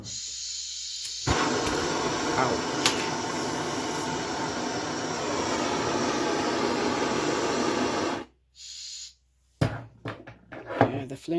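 Steady, loud roaring hiss of a powerful butane gas flame gun torch burning for about seven seconds, then cut off, followed by brief bursts of hiss and clicking handling noises.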